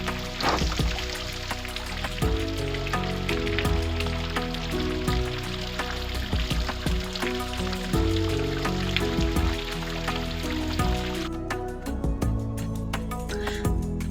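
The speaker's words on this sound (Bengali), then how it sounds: "একদম বিকাল বেলা খুব জোরে বৃষ্টি নেমেছে।" Heavy afternoon rain, seen from a room, falls steadily as a dense, even wash that continues at the same level for the full length, with no voices.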